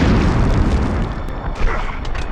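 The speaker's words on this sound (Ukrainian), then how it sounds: "Де треба кинути гранату" A grenade explodes in the 1999 video game Medal of Honor: a loud, sustained booming rumble fills the whole stretch, with a second thudding swell partway through.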